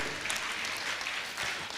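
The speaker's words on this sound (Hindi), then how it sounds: "मैं चाहूंगा जोरदार ताली बजाकर इनका सम्मान करें।" An audience at a Jain religious gathering claps steadily to honour guests. The applause is dense and continuous but fairly soft and distant, with no voices over it.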